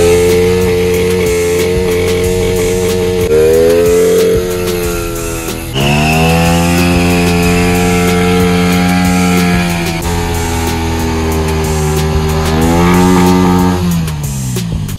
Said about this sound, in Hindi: लेकिन उससे पहले आपको बढ़िया सा बर्नआउट दिखाते हैं, तो बर्नआउट एंजॉय करो